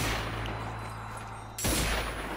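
Sustained turret gunfire from Zombie Army 4, a dense continuous roar over a low hum that cuts out briefly and then resumes even louder.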